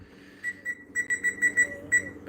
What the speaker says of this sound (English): I will set this oven timer